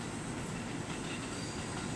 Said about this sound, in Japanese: The train is departing from track number 2.